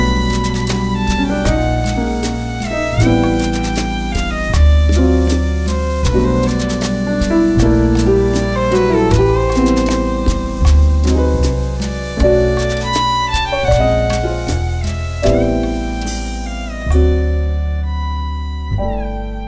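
Solo piano plays Latin ballad bolero-style block chords with a steady, swaying rhythm and rich bass notes, loud and close, ending on a ringing final chord with no speech.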